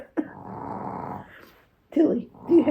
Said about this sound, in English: I'm so sorry that she's snoring.